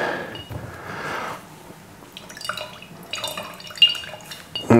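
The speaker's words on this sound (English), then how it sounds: "then squeeze out all the gunk that's in that sponge" Water drips and trickles from a squeezed sponge full of gunk while cultivating infusoria, a close wet splatter followed by scattered drips and small splashes, with no talk.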